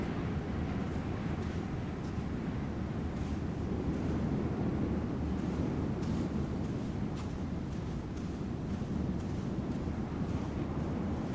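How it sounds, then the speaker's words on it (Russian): Steady, loud wind buffeting the microphone with a constant roar, like a gusty lake shoreline with waves, continuing without a break. "Ветер усилился."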